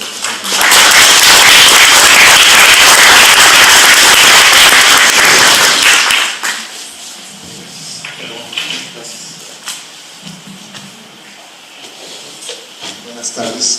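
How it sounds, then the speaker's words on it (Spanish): A crowd at a judicial conference on constitutional review applauds a magistrate with loud, dense clapping for about six seconds, then it cuts off and a single speaker begins talking in a quieter room. "Un aplauso para el magistrado y agradecemos su participación."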